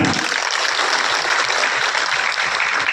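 Loud, dense applause from a crowd at an awards ceremony in Lucknow goes on steadily throughout, many hands clapping at once.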